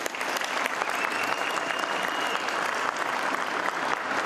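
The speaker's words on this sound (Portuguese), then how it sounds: "vamos bater uma salva de palmas para você" A crowd at a Renault car factory in Paraná, Brazil, gives a round of applause during a visit by President Lula, a dense and continuous wash of clapping at steady strength throughout.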